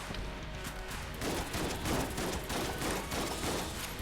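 Rapid, continuous gunfire from a weapon in the video game Enter the Gungeon, a dense stream of shots that runs without a break for the whole stretch, loud and steady.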